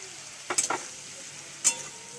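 Bottle gourd cooking in a wok, a faint sizzle with a few short bursts of stirring and scraping, close and quiet with no talking.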